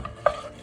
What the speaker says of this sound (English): So in go the onions, into the pan.